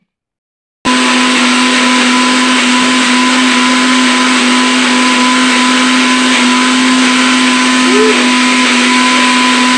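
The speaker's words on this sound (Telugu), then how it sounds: "ఈ టమాటాలు కూడా ఫ్రై అయిపోయిన తర్వాత వీటిని కూడా మిక్సీ జార్ లో వేసేసుకొని సన్నగా గ్రైండ్ చేసి పెట్టుకోవాలి" A mixer grinder blends fried tomatoes into a fine paste, starting abruptly after a brief silence and running as a loud, steady motor whine with no pauses.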